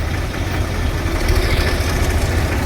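A tractor engine idles steadily close by, a dense low rumble with a faint knocking vibration, heard alone for a few seconds.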